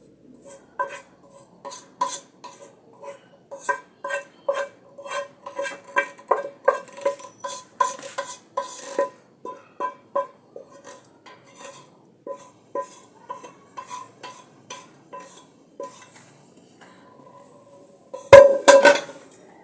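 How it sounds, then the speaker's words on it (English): A wooden spoon stirring cooked spaghetti in a metal pot, producing a long run of close, rhythmic knocks and clinks against the pot that end in a sharper final clank. "Let me use the wooden spoon."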